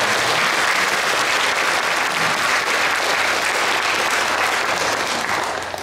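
An audience at a church's 50th anniversary classical concert applauds steadily, a dense, loud wash of clapping throughout that eases slightly at the end.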